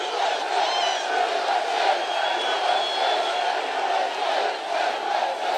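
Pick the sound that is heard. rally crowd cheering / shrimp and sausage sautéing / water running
rally crowd cheering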